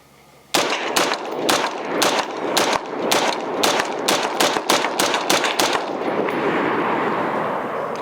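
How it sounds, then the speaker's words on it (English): A New Frontier Armory G4 pistol fires a long, rapid string of sharp, loud shots on a shooting range, close up, followed by ringing echo as the firing stops. "First rounds, the New Frontier Armory G4."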